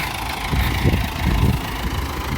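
A tractor engine idles steadily while manure is hauled, a low continuous rumble that stays near and fairly loud throughout with slight swells in level.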